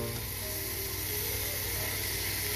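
Poke weed sautéing in a hot pan, a steady loud sizzle and hiss of frying greens, close up and continuous for a few seconds.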